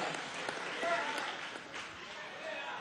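A convention crowd at a political youth congress applauds an actor, singer and composer, with broadband clapping filling the whole clip at moderate level while voices murmur underneath.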